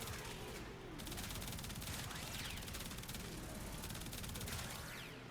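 Prisma Grakata rifle in Warframe firing on full auto at a very high rate, a dense, steady rattle that fills the whole stretch, fairly quiet overall.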